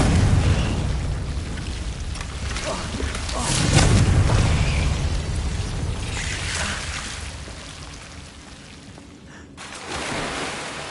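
In the Hogwarts Legacy video game, a Confringo fire spell explodes as a deep, rolling boom that swells, fades and is followed by a further burst, with speech faintly underneath.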